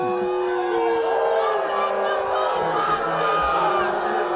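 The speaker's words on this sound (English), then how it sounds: "As you can tell, crowd enthused by that news." A crowd at a high school football game between Buena and Middle Township roars and cheers steadily, loud and continuous across the whole stretch.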